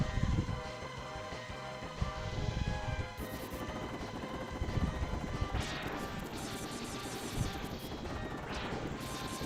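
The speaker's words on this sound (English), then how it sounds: "a helicopter bee with machine guns" A whirring, buzzing helicopter bee enemy in Mega Man X drones steadily under game music, with clattering machine-gun-like bursts and crashes scattered throughout at moderate loudness.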